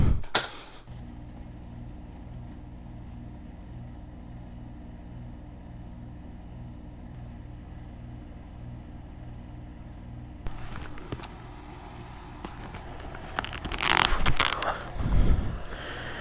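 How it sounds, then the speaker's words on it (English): A Kawasaki KX dirt bike engine idles steadily nearby as a low, even mechanical rumble, then handling, scraping and clunking noises break in over the final few seconds. "so we got the KX, started that"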